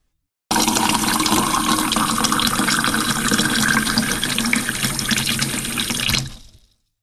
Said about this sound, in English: pour exactly 600 milliliters of water into a measuring cylinder used to measure the volume of liquid